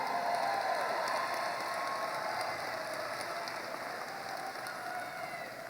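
Sustained applause from a political audience after a campaign speech line, a dense, steady wash of clapping that fades slightly over several seconds with no talking on top.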